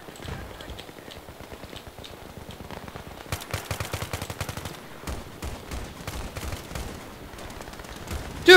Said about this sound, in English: I'm shooting at the goddamn guy